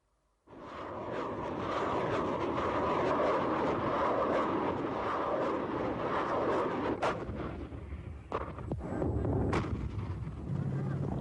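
An intense artillery bombardment from the Iran–Iraq War, with loud continuous booming and dense crackling blasts that roll on for several seconds. A few sharper, distinct reports come near the end.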